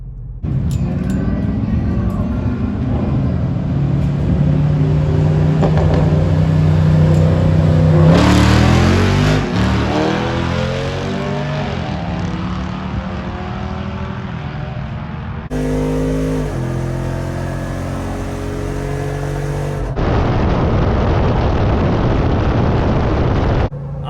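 A Jeep Wrangler Rubicon 392 on massive tires drag races a fully tuned big-turbo Veloster, engines roaring loud and close as they rev hard through the run, the pitch climbing and shifting with a sharp burst midway.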